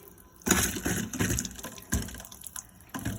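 Water gushes from a camper trailer tap in uneven bursts and splashes as pressure is released, close by, with no speech over it.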